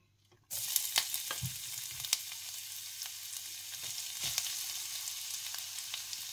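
Ginger frying in dark oil in a pan for a pork liver dish, a steady close hiss of sizzling that starts abruptly and continues with occasional crackles and stirring scrapes.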